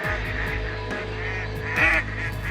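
A large flock of geese comes in during a waterfowl hunt, honking loudly and repeatedly in overlapping calls that build to a brief swell.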